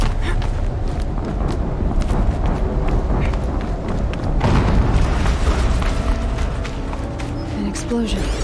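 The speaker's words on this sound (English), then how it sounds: "An explosion." An explosion in the video game Horizon Zero Dawn: a deep, dense rumbling boom swelling midway through, set within a continuous loud wash of in-game noise and busy clattering movement.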